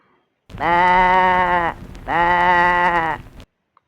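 A sheep bleats twice, two loud wavering calls of similar length separated by a brief pause, heard up close against a quiet background.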